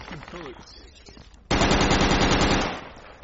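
Automatic rifle fire from the military shooter game Project Reality bursts in as a loud, sustained rattling volley that follows a stretch of faint background chatter and cuts off after about a second and a half.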